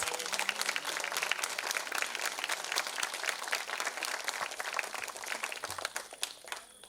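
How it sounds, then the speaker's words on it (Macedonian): Sustained applause from a large audience, a dense steady wash of many hands clapping at once, tapering slightly near the end. "Заслужуваат голем аплауз."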